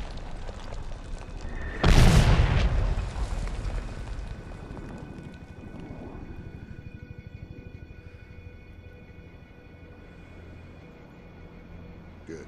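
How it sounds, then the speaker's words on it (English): A mortar explosion in Medal of Honor on PlayStation 3: one loud, close blast bursts out, then trails off into a long rumbling decay and faint battlefield ambience. "Mortar inbound."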